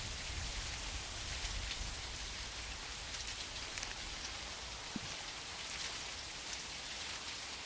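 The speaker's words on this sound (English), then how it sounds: "It's a rainy day. Rainy morning." Rain in a VR deer-hunting video game on a rainy morning, a soft, continuous patter of drops on surfaces that holds steady throughout, gentle and fairly quiet with no voices.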